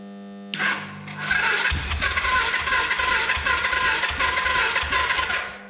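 A Suzuki GS 500 motorcycle engine cranks over on the starter without firing, a rough, rhythmic churning that runs loud and close for several seconds after a short electrical click.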